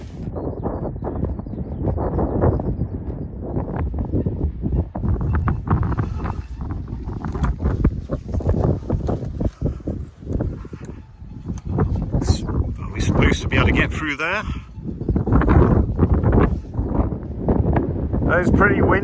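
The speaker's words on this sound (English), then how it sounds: "It's pretty windy." Strong gusts of wind on Black Hill buffet the microphone in loud, uneven roars, with a person talking intermittently beneath the blustery noise.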